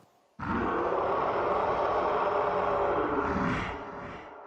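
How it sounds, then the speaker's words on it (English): A deep, monstrous roar, something between a man yelling and a lion, booms out of a cave in Afghanistan. It is one loud, sustained bellow lasting about four seconds before it tails off. "I heard the deepest, loudest roar emanate from the cave. It sounded like a cross between a man yelling and the roar of a lion"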